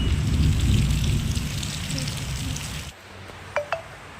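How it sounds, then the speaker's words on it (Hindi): Steady heavy rain roars for about three seconds, then drops away abruptly, leaving quieter background with two brief sharp chirps near the end. "इतनी तेज़ बारिश हो रही है"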